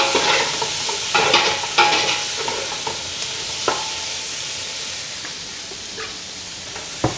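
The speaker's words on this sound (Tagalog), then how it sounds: "ilagay na natin ang ating kamatis. Sutayin lang din natin siya until madurog yung kamatis" Tomatoes being stirred and sautéed with pork in a pan, a steady frying sizzle with repeated scraping stirs of the spatula, close and moderately loud with no voices.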